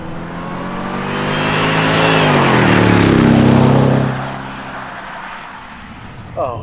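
A supercharged Jaguar XJR with a stage 1 intake accelerates loudly. A rising engine roar and supercharger whine swell to a peak, then ease off into a quieter drone.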